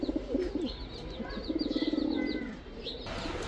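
Pigeons kept for sale, including Pakistani breeds, give soft throaty coos in short rolling bursts, mixed with a few light chirps and a faint flutter, heard close with no talking.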